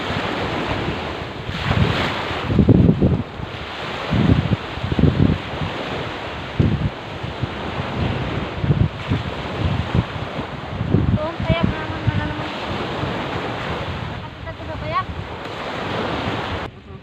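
Ocean surf at high tide on the beach at Candon, Ilocos Sur, a continuous loud wash of breaking waves with heavy wind buffeting the microphone and occasional surges, close and steady throughout.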